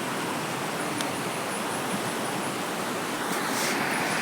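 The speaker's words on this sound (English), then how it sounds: "This is the water." A jungle river at a wild campsite flows in a constant broad hiss of running water, fairly close and unbroken, with a couple of faint brief ticks and no voices.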